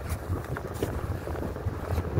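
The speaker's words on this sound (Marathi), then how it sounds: "आमची बोट चालू होत नाही, धक्का मारायला लागलोय. चालू झाली." A fishing boat engine, just push-started after failing to start, runs with a low rumbling throb amid wind buffeting and water noise, with people talking faintly over it.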